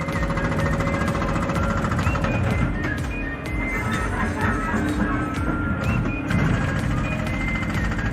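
A pavement breaker pounds into a road surface with rapid continuous hammering, loud and close, over a running engine with other site noise, and a voice briefly talks over it.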